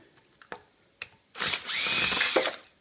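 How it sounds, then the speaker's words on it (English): A power drill spins out screws from a DSG6 mechatronic unit, with a few short clicks and bursts before a steady, loud whirring run of about a second and a half that winds down, close by with no talk. "I'm going to take out the screws now."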